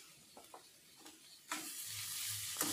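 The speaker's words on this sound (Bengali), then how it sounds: "দিয়ে এইভাবে ক্রমাগত নাড়াচাড়া করতে হবে।" Grated coconut and sugar are stirred in a pan over a gas flame, with a few soft scrapes and then a steady low sizzle and spoon scraping close by.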